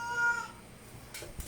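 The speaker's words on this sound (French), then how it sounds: "Hey, le miaulement de la mort, hein." A domestic cat meows loudly and close by, a drawn-out cry at the start that fades into quieter room noise with a couple of soft knocks.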